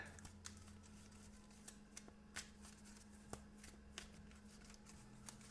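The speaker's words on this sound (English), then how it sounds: "let's shuffle up our deck" Deck of cards being shuffled for the Marvel Match-Up card game, a quiet riffling rustle with scattered soft snaps and flicks under a low steady background hum.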